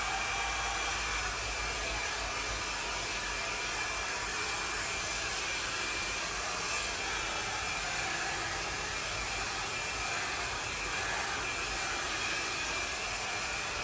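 Hair dryer blowing steadily while drying a dog after its bath, a continuous loud airy whoosh with even broadband hiss and no break across the whole stretch.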